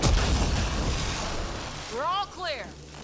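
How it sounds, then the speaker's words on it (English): A heavy rumbling blast with crackling debris in Mass Effect Andromeda, fading into a lingering roar as a voice speaks over the tail. "Lots of explosions"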